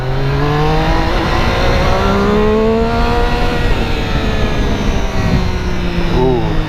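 A 2016 Triumph Street Triple motorcycle engine revs steadily and loud up close, its pitch rising then dropping as it shifts from first into second gear, with constant wind rush over it.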